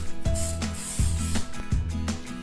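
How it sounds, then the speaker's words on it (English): Non-stick cooking spray hisses into a loaf pan in three short, close bursts, each a sharp aerosol spray with brief pauses between. "lightly spray it with some non-stick cooking spray."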